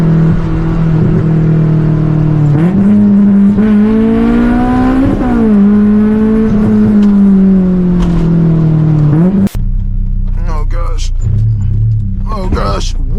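A loud, raspy straight-piped Honda S2000 exhaust drones and revs up and down close by, then cuts off abruptly before a person talks.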